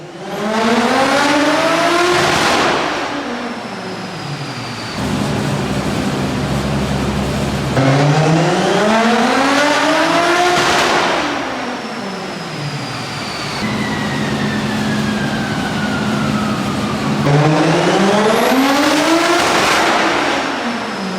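A Ford Sierra with a swapped 2JZ engine and turbo runs on a dyno, revving loud and close in repeated long rising pulls that climb in pitch, each ending in a sharp drop before the next sweep, with no talk.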